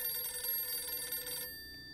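A telephone rings in the strategy game For The People, set in a newly taken town office, sounding as a steady electronic trill for about a second and a half before cutting off abruptly.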